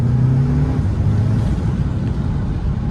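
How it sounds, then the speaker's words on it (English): A 2020 Audi A3 with turbo charge pipes fitted, engine running under load with a steady low drone and a brief higher whine early on, close and fairly loud. "Get a little bit of boosty noise."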